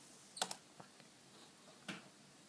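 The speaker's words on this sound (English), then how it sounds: "We'll click on start and type" Computer keyboard typing, a few sharp close key clicks in a quick cluster, then isolated taps with quiet gaps, faint and alone with no talk.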